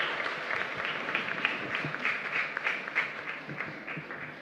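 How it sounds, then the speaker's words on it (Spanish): Congregation applauding inside a church during a Mass for San Blas, a steady wash of many hands clapping at moderate distance for several seconds without any voices. "Fuerte aplauso para el Señor."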